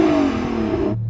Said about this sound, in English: Hey Jürgen, go on, rev up your car